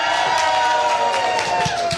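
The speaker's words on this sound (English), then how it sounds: "Everybody give David a big round of applause" A television studio audience cheers and shouts loudly for the cook making pancakes, a dense burst of whoops and crowd noise lasting about two seconds.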